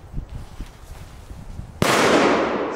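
A single loud firecracker from a Belgian consumer fireworks range bangs sharply after quiet outdoor ambience, its broadband blast followed by a sustained roaring decay.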